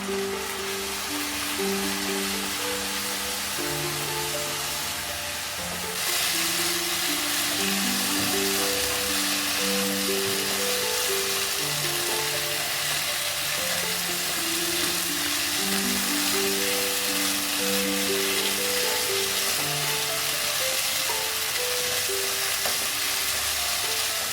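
Lentil vada curry masala with turmeric sautéing in a pan, a steady close sizzle with scraping stirs throughout, growing louder and brighter partway through, with no talking.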